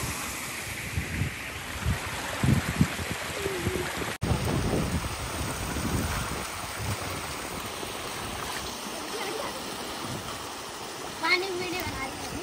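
Water of a village waterfall stream rushes and splashes steadily, close and loud, with a few people talking over it now and then.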